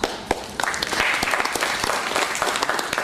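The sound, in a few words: audience applause at a talk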